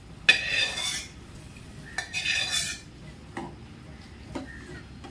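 A spoon stirs dry fruits into a jaggery porridge mixture in a metal pot, giving sharp clinking scrapes against the vessel in uneven bursts, with quiet gaps between strokes.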